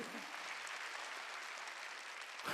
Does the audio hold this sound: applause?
yes